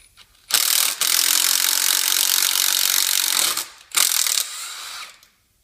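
Steady scraping and grinding of a thread repair tool cleaning bolt threads on a BMW, a loud continuous rasp lasting about three seconds, then a brief pause and a shorter second pass, with no talking.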